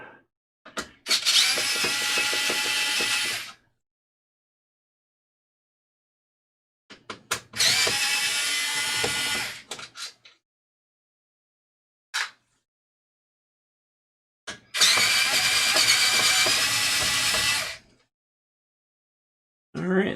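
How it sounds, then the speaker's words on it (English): A power drill or electric screwdriver removes screws from the back of a computer power supply, whirring in three long bursts with short stops and clicks between them, close by. "remove the screws from the back side of the power supply"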